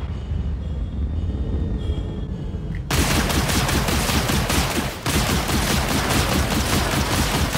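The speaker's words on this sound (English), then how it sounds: "He's shooting." Ship weapons firing in Star Citizen: after a quieter stretch, a loud, dense stream of rapid shots starts suddenly and keeps going as a steady barrage, with one brief dip, and no talking.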